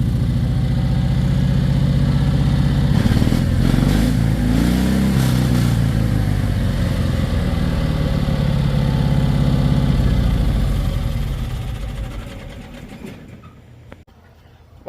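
A Cushman Truckster engine idling after a carburetor swap, a steady close rumbling putter with a brief rise in revs early on, gradually quieting before shutting off near the end.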